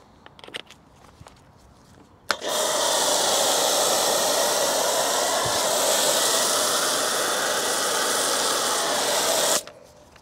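Steady hissing spray of wheel foam being applied to car wheels, one continuous loud burst lasting about seven seconds after a few faint handling clicks.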